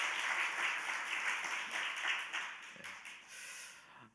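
A church congregation applauds for a choir after worship singing, a moderate wash of clapping that builds and then fades over a few seconds, with no voices over it.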